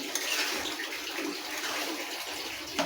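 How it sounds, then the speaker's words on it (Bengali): Water pours into a pan of poppy seed paste in a steady, close gushing stream that runs unbroken for about three seconds, with a small splash near the end. "তো দেখো আমি জলটাকেও দিয়ে দিচ্ছি এতে"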